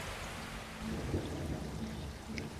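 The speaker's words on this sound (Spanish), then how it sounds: "No lo sorprendió oír un trueno." Steady rain pours down while thunder rumbles low and continuously, a dense storm sound effect with no voices.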